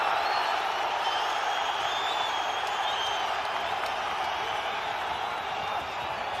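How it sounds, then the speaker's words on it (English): Boxing arena crowd roaring and cheering in support of Kambosos during the final minute of a title fight against Haney, a steady, dense wall of crowd noise with applause, loud throughout. "Crowd trying to rally support for Kambosos here"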